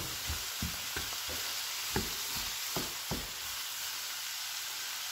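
Vegetables fry quietly in a pan under a soft, steady sizzle while a utensil stirs them, giving a run of knocks and scrapes that fade out toward the end.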